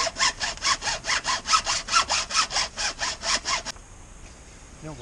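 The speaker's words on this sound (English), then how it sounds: "we're gonna try and cut just little half slots, leave a little bit in the center" A hand saw cuts slots into a tube for a homemade chicken feeder, giving about fourteen loud, regular back-and-forth rasping strokes close by before it stops abruptly.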